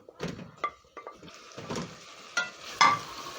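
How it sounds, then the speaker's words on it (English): Boiled matoke green bananas are stirred into a peas and spice stew in a pot, giving a series of separate spoon scrapes and soft clunks with a faint sizzle underneath, close up, no talking. "Then I'm going to stir in the matoke together with the deliciousness from the peas and spices."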